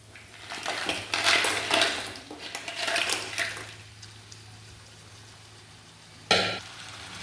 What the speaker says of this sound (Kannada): ಈಗ ಫ್ರೈ ಮಾಡಿದ ಮಸಾಲೆ ಒಟ್ಟಿಗೆ ನಾವು ಈ ಕ್ರ್ಯಾಬನ್ನು ಸರಿಯಾಗಿ ಈಗ ಮತ್ತೆ ಮಿಕ್ಸ್ ಮಾಡಬೇಕು